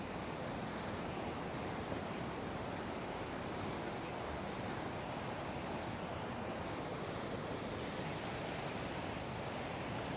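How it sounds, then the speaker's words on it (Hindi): Rushing flow of the Alaknanda river near Mana village in the Himalayas, a loud, steady broadband roar of fast water that fills the clip without pause and carries no voices. "माँ अलकनंदा का प्रवाह इतना तेज़ है और आवाज़ बहुत ज़्यादा आ रही है"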